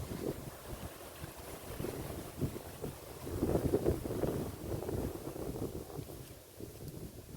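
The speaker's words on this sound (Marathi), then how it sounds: "फांदिया भरपूर वारं सुटते खूप छान वाटते" Wind blows steadily outdoors and rumbles against the microphone in low, rolling gusts that swell in the middle, with no voices.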